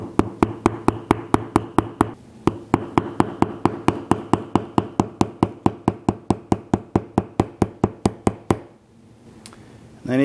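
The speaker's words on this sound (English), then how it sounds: "I'm just actually hammering down the leather itself just to flatten that seam" Rapid, even series of sharp hammer taps flattening a leather seam on a stool cushion, dozens of blows in steady rhythm, close by, stopping briefly near the end.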